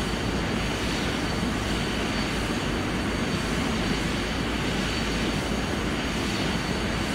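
Simulated airplane rolling down the runway after landing and taxiing in Microsoft Flight Simulator X, with a steady, dense engine drone and rumble holding throughout, loud and continuous with no voices.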